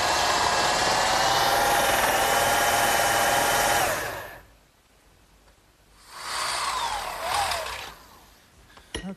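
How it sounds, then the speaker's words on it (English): An electric drill bores a hole in a metal bracket for a garden swing, a loud steady whine for about four seconds, a pause, then a shorter second burst. "what I've just done is drilled a hole in this metal bracket"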